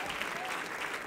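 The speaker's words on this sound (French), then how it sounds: "Est-ce qu'on peut applaudir l'équipe de louanges?" A youth worship audience applauds the worship team, with a brief burst of steady crowd clapping at moderate volume.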